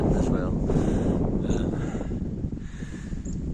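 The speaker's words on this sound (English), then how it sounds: "then you get these gusts of wind as well." Gusts of wind buffet a wild camp in the Antrim Hills at Glenshesk on a damp June day. A loud, rough rumble fills the whole stretch, swelling and easing as the gusts hit the microphone.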